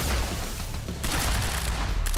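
Rapid gunfire from the shooter video game Quantum Break, a dense, steady clatter of shots near and loud with no pauses, sharpening and brightening halfway through.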